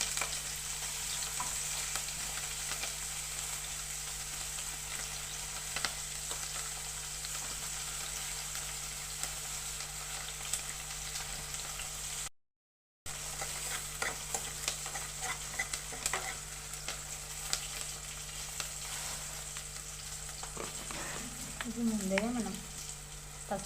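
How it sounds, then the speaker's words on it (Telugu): Onions sizzling in hot oil in a pan for a mixed five-vegetable curry, a steady close crackle and hiss that runs throughout with occasional stirring scrapes, briefly cut out partway through. "ఆయిల్ వేడేసాక ముందుగా ఉల్లిపాయలు వేసుకోవాలి"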